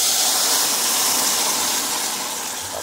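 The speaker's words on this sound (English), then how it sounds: "we're gonna put in the water now" Steady broadband hiss and gushing of water poured into a hot pot of Kittitian mix-up pot, loud and continuous, fading slightly toward the end.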